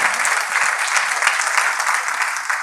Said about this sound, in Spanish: Y el aplauso más fuerte es para nuestro Señor Jesucristo.